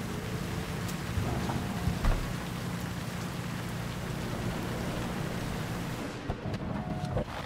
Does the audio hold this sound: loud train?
no